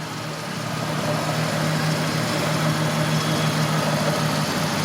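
Ford F150 Triton pickup with a petrol 4.6 litre V8, restored and customized, idling steadily with a low even rumble, close and moderately loud, with no voices.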